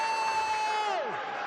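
Rugby league crowd at a Halifax Panthers Challenge Cup home match cheers steadily as a broad roar, with a loud sustained tone over it that slides downward at the end.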